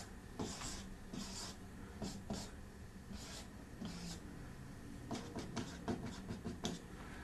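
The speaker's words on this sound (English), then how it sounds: "let me make an abbreviated liquid drawing over here" A liquid rocket diagram is drawn by hand with a pen or marker, giving faint, close scratchy strokes in short irregular bursts over a quiet background hum, with no talk.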